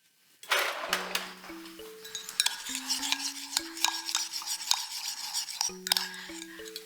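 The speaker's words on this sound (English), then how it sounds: "we're going to give it just a bit of a stir" A spoon stirs a warm, melted brown baked-apple mixture made in the microwave, giving close, repeated scraping and clinking strokes over light background music.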